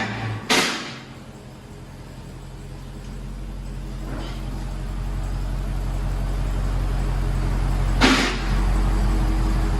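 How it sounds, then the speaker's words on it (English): A stock 2018 Dodge Charger Hellcat with its 6.2-liter supercharged V8 idles close by, a deep steady rumble that slowly swells louder, with a couple of sharp clunks. "2018 Dodge Charger Hellcat. This is what it sounds like before."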